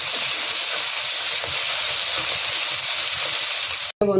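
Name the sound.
fish frying in oil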